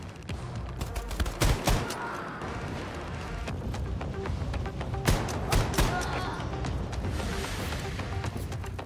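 Shotgun blasts in the shooter Wolfenstein II: The New Colossus, several loud sharp reports at irregular intervals over a dense, continuous bed of game noise and combat clatter.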